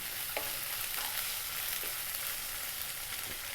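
Garlic ginger paste, an even mix of garlic and ginger, sizzles steadily in a pan, a soft continuous hiss of frying with a few faint stirring clicks and no talk.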